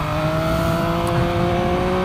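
Triumph Speed Triple RS three-cylinder motorcycle with Öhlins suspension accelerating under throttle, a loud, steady engine drone with strong harmonic tones held for the full two seconds, heard close and without speech.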